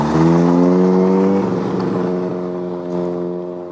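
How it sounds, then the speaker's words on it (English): A Datsun Sunny pulls away at a car show, its engine note rising as it revs and accelerates close by, then fading as it drives off. "Off goes the Sunny."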